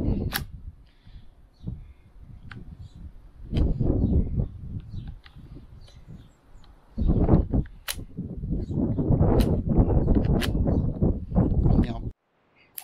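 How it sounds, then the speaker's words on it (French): Repeated metallic clacks and sliding clicks of a Rossi Gallery .22 LR pump-action rifle being cycled, several sharp cycles in quick succession, close up with some handling noise. "faire fonctionner le mécanisme plusieurs fois"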